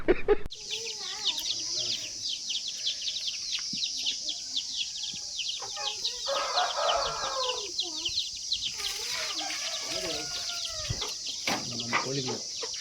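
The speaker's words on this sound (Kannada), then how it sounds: "ನಮ್ಮ ಕೋಳಿಗಳು" Domestic chickens, including small chicks, cluck and peep close by in a busy, continuous chorus, with a steady high insect-like hum in the background.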